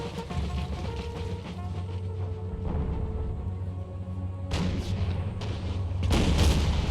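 Heavy artillery fire rumbles through an Empire 2 multiplayer battle, a dense low roar with repeated booms, the loudest bursts arriving near the middle and at the end.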